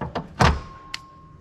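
A travel trailer door handle is lifted and the door pushed shut: a few close thumps and clicks, with one heavy latch thud in the middle and a short click near the end, over faint background hum.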